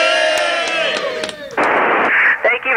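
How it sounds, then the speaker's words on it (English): A group cheers loudly for an astronaut aboard the International Space Station, the crowd's shouts coming through a narrow, crackling amateur radio link after a stretch of radio-filtered audio. "everyone wants to give you a big cheer"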